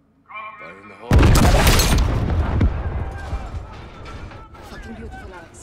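A breaching charge detonates in Call of Duty Modern Warfare, a sudden loud blast with debris and rumble that fades over several seconds, after a brief spoken voice.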